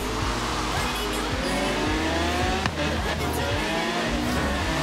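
Subaru engine in Forza Horizon 3, droning steadily under load as it accelerates through the gears with shifting revs and a brief tire squeal, loud and continuous, with someone talking faintly beneath.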